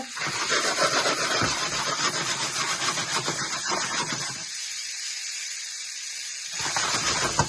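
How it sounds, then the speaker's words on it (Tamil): Mutton chops frying in butter in a pan give a steady, dense sizzle and hiss throughout, briefly thinning in the middle before the full crackle returns; no talking. "கொஞ்சம் பட்டர்ல பொரிஞ்சு வர நல்ல அழகா இருக்கு"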